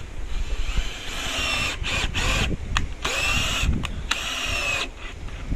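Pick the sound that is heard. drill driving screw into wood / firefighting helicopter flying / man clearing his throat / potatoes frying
drill driving screw into wood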